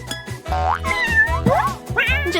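A kitten in a cartoon game mews several times in quick succession, close and clear, with bright rising and falling cries over a steady music bed.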